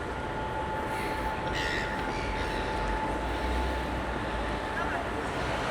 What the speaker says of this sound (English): The seagull invasion.